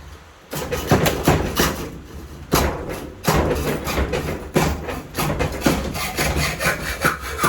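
A hand saw cuts into a brass valve with steady back-and-forth rasping strokes, close and loud, broken by a couple of short pauses and with no talking.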